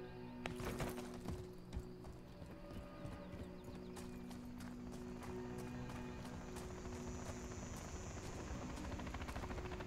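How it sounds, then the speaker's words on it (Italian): A helicopter in the video game Call of Duty: Modern Warfare 3 (2023) gives a faint, steady rotor drone under a dense battle soundscape, with rhythmic thudding clatter and scattered sharp cracks throughout. "Un elicottero."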